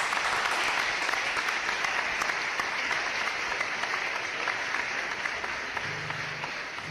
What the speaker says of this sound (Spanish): un aplauso acá en el estudio y en su casita